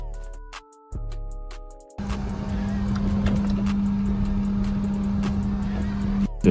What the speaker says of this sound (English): The loudest car.